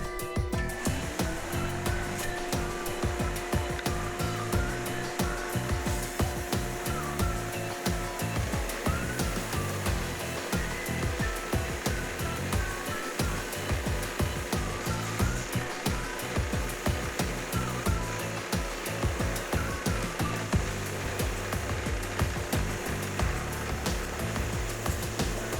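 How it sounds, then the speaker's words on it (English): An edge sander runs continuously while smoothing the outside profile of a shop-made wooden router base, giving a steady loud motor whir with a repeating rhythmic pulsing across the whole stretch and no talking. "We will head over to the edge sander to sand that away."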